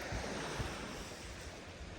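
Steady wash of waves on the Caspian Sea shore, a continuous broadband surf roar mixed with some wind buffeting on the microphone, no voices.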